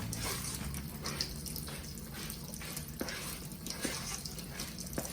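Water runs and splashes in short bursts, poured a splash at a time into a beignet dough mixture in a bowl, with faint drips between pours.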